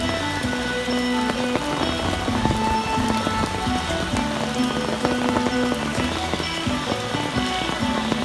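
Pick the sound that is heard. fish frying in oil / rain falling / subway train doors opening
rain falling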